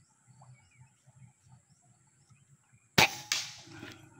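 A Mini H2O PCP air rifle fires once at a 50 meter target plate, a sharp sudden crack near the end followed by a faint metallic hit, after quiet with soft bird chirps.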